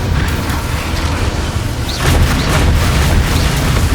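A fire spell blast in the video game Hogwarts Legacy: loud, heavy booms and rumbling bursts over continuous mechanical clatter and dense battle noise, with no break in the din.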